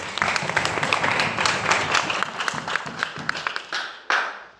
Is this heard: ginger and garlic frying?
no